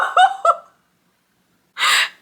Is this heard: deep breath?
yes